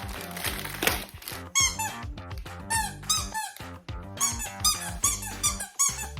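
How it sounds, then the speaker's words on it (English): A squeaky dog toy is squeezed again and again, giving loud, close, high-pitched rubbery squeaks in quick uneven bursts with short gaps between them. "Squeaky toy."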